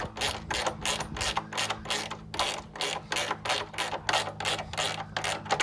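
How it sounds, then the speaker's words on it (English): Ratcheting wrench work on a nut holding the carbon fiber diffuser of a C7 Z06 Corvette: steady rapid clicking bursts in repeated strokes, close and fairly quiet, with no talk. "you need to take off the nut using a 7/16"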